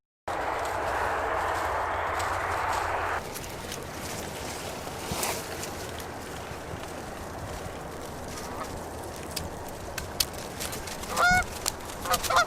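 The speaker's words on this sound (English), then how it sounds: "there's a ton of geese flying around right now" Wild geese fly around a goose hunting spot outdoors, with scattered honks and calls heard faintly at a distance over a broad outdoor hiss, a few sharper honks rising near the end.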